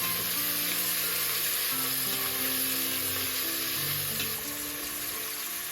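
Two chopped onions frying in a pan for vegetable biryani, a loud, steady sizzle with a constant hiss that runs unbroken throughout and fades slightly near the end.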